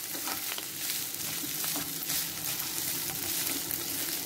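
Hand-broken potato pieces fry and sizzle in a pan of oil as they are stirred for a dahi aloo curry, a steady close crackling hiss with faint scraping of the spoon throughout.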